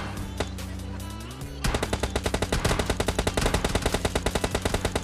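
Rapid automatic gunfire in a PUBG match, a long unbroken burst of sharp evenly spaced shots that starts abruptly after a quieter stretch and continues loud and steady to the end.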